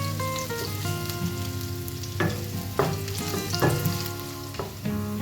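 Garlic and ginger, finely chopped, sizzle and fry in a pan for a chicken curry while a utensil stirs them, with several sharp scraping strokes cutting through the steady, close crackle. No voices.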